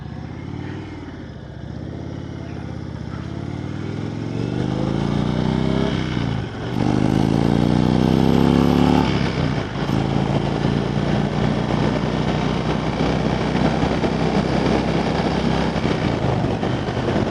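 A 2020 Indian Chief Darkhorse motorcycle on a demo ride rumbles steadily, with revs climbing through several gear changes and a short drop between them, then settles into a constant roar mixed with wind noise and no talk.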